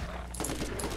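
Rapid gunfire from a powerful gun in the Borderlands video game, a burst of sharp shots starting partway through, loud and close, with no talking.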